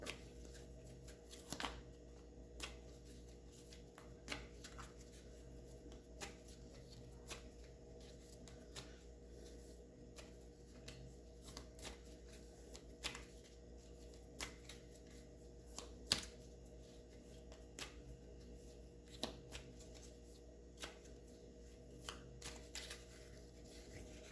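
Tarot cards are shuffled and drawn in a quiet room, with soft, repeated card flicks and slides scattered across a long stretch with no voices.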